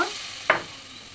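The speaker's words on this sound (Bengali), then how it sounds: "এখন ভালো করে নাড়ি চাড়িয়ে নেবো" A single quick scrape of a spoon through potato and fig (dumur) curry in a pan, over a faint background sizzle, close and brief with no voices.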